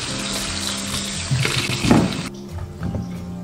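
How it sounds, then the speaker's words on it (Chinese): Loquats being washed under a running tap give a short spell of splashing and gushing water, close and moderately loud, with a brief louder splash before the flow eases off. "首先把枇杷清洗干净，主要就是为了洗掉枇杷表面的这些灰尘。"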